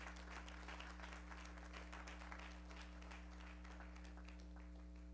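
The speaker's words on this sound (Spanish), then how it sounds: "Denle un aplauso a Cristo." Church congregation clapping together during a Spanish-language service, a steady, fairly distant wash of applause over a constant low hum, continuing without a break.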